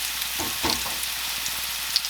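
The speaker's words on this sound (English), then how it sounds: "And just sear them real good on one side." Meatballs sear in a thin layer of oil in a skillet, cooked seven at a time, giving a steady close sizzle and crackle throughout with a few brief louder pops.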